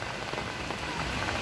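Rain falls steadily on nearby surfaces, a soft, even patter of many small drops with a faint hiss and no voices.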